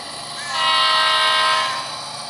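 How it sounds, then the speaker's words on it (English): Horn blast from an Athearn SD40-2 model locomotive on a model railroad layout, one sustained loud chord lasting about a second over steady background hum. "We haven't gotten to the horses yet, and we're already honking."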